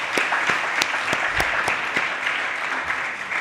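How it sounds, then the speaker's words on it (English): Audience applause fills a lecture hall during an early career researchers' event, steady dense clapping with a few sharper claps standing out, continuous throughout. "Professor Stannering deserves another round of applause"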